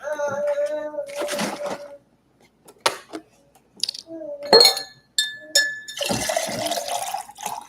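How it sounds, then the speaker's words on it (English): Orange peach mango juice is poured into a glass in a home kitchen, with short liquid splashes and bright glass clinks coming in separate bursts and pauses, close by. "I'm not gonna pour too much because I have water."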